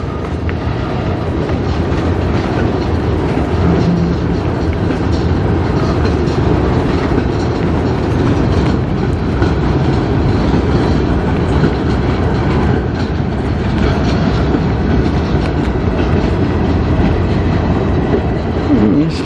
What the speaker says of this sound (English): They're just putting this train into a lane, I think, in the yard